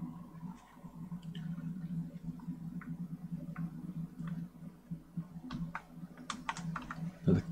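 Rapid, light keystrokes tap on a computer keyboard in irregular clusters, close and fairly quiet over a low background hum.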